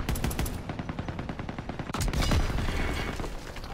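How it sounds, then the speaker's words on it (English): Rapid automatic gunfire aimed at buildings in Call of Duty WWII, loud and relentless bursts with a heavier blast midway and no talking. "I can just be shooting at the buildings the whole time, dude"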